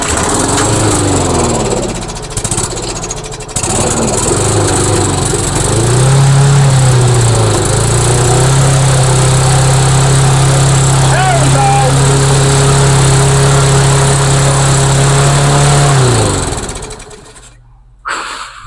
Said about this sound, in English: as you can hear, the engine is revving a little bit high